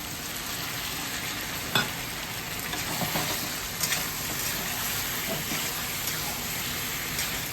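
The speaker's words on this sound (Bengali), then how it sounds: "এবার আমি বেটে রাখা মশলাটা দিয়ে দিচ্ছি।" Ground spice paste sizzles loudly and steadily in a hot pan of oil, a dense hiss with a few soft stirring knocks and no voices.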